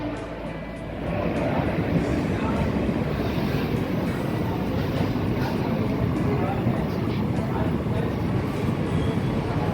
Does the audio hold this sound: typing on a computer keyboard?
no